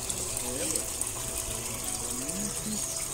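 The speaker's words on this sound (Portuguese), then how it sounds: "É água de mina, não é?" Water from a natural spring pours in a steady, continuous gush with a broad hiss, with faint voices talking softly in the background.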